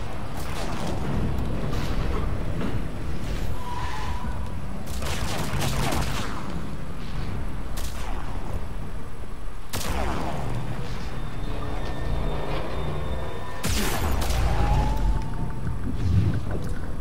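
Assault rifle fire in Mass Effect 3, heavy and continuous bursts of shots mixed with booming impacts and game effects, loud and close, with occasional talk over the top.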